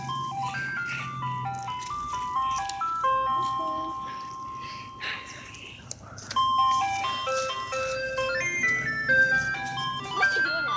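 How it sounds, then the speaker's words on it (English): A slow-moving ice cream truck plays its tinkling chime melody continuously, with a low vehicle rumble underneath and a moderately loud, steady level throughout. "We can outrun a stupid ice cream truck."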